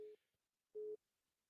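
Two steady electronic telephone beeps, a short one at the very start and a longer one after a pause, loud and clear with nothing else around them.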